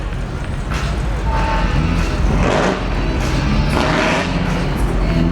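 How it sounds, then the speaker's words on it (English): A loud, rumbling 1951 Ford pickup truck with a Whipple supercharger and wide-open exhaust burbles and surges close by, with deep, rough exhaust pulses and a few revving swells. "This little Ford pickup truck does not sound like a stock late model Ford truck."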